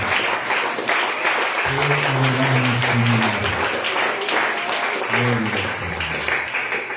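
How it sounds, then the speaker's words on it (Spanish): A church congregation at a worship service applauds in a loud, continuous wash of clapping, with a voice speaking or singing over it in short bursts. "Den un aplauso al Señor."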